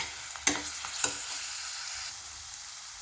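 Onions with ginger garlic paste fry in a pan with a soft continuous sizzle, broken by two sharp clinks of a spoon stirring, quiet and close, with no voices.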